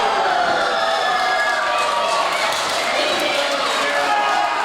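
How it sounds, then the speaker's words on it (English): A wrestling crowd at a live tag-team match cheers in a loud, sustained roar that fills the arena without letting up. "Crowd loves to see it."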